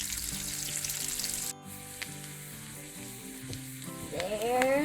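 Morel mushrooms sizzle and crackle in butter in a hot pan under music, dropping briefly quieter before the frying swells again.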